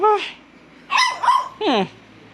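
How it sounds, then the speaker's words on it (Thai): A dog gives a few short, loud barks and yips indoors, one bark first, then a quick pair and a final bark, with pauses in between. "แค่เห่าพี่โดก็เหนื่อยแล้ว"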